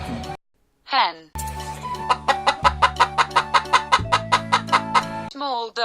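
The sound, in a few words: hen clucking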